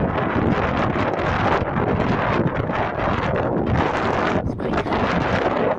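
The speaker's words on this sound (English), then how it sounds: "cold and windy, as you can see." Cold wind buffets the microphone on a beach walk between Crosby and Waterloo near Liverpool, England, a loud, constant rumbling roar that fills the whole stretch, with a voice briefly speaking under it.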